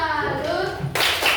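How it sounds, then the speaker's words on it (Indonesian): Children in a classroom clap a rhythmic salute cheer, with sharp hand claps rising near the end of a short burst of young voices talking and chanting. "Tepuk salut!"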